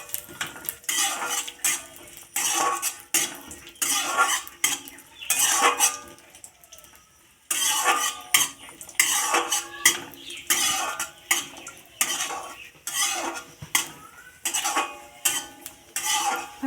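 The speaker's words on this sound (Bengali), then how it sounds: "কাজু আর কিশমিশটা আমি হালকা ভেজে নেব।" Cashews and raisins fry in ghee in a wok amid repeated close spatula clatter and stirring scrapes, with a soft frying hiss beneath; the rhythmic bursts pause briefly midway, then resume.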